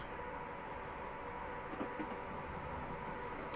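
A Class 89 electric locomotive in Train Simulator Classic runs between Carlisle and Glasgow Central near 100 mph, giving a quiet, steady rumble with a faint hum and a few soft clicks.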